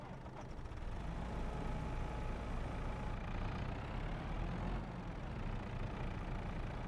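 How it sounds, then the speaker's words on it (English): A loud tractor engine runs steadily in Farming Simulator 22, a continuous low rumbling drone with no breaks, heard alone without talk. "I'm tempted to swap this tractor out because it's quite loud compared to the normal tractors."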